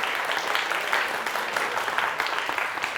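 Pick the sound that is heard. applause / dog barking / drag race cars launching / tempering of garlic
applause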